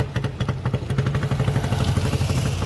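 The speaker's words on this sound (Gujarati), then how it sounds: "આ ક્રેન છે ને આ બધી બોટું ચરાવવાની છે" A crane's engine clatters and throbs in a fast, steady rhythm while hauling fishing boats out of the water at the end of the season, close and fairly loud throughout.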